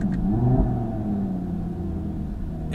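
A 2017 Audi TT RS with a sports exhaust revs hard, a loud close engine rumble swelling early then settling into a steady deep drone, with no talk.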